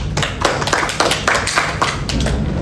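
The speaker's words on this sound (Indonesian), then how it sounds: "Mari kita berikan aplaus yang meriah untuk Bapak Victor selaku perwakilan dari Dewan" A room full of people claps for a speaker at a roleplay session, a close, brisk run of overlapping hand claps lasting a few seconds with no voices on top.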